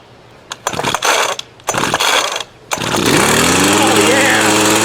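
A Craftsman 25cc gas hedge trimmer with a new carburetor is pulled over in a few rough bursts, then catches and runs at a loud, steady two-stroke drone that climbs in pitch as it settles.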